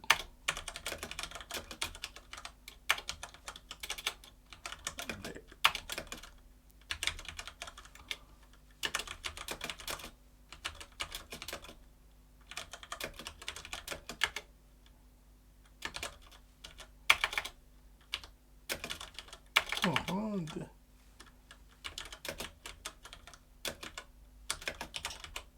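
Typing on a computer keyboard while editing in vim, with bursts of rapid key clicks separated by short pauses, close and fairly quiet throughout.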